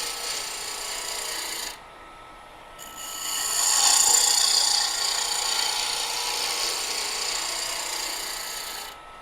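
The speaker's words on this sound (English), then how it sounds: "we just kind of go in with our roughing gouge" Roughing gouge cutting scrap wood on a lathe gives a continuous hissing, scraping rasp, near and moderately loud, dipping for about a second before swelling back as the tool bites into the spinning wood.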